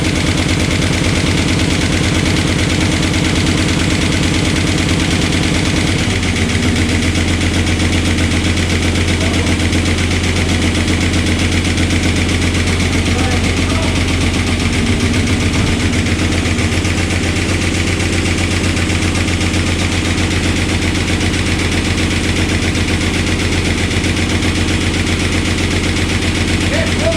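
A 1969 Dodge Dart engine idles with an exhaust leak, a steady loud rumble with a rapid, rattling pulse throughout, constant and close for the whole stretch.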